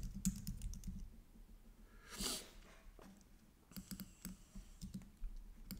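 Keys tapping on a computer keyboard in irregular clusters of typing, quiet and close, with a breathy sniff or noise partway through and no speech.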